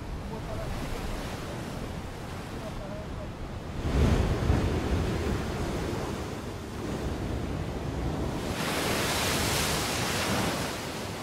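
A strong swell washes over a rocky shelf at low tide on Fernando de Noronha: a steady roar of surf and wind, with heavier surges building twice.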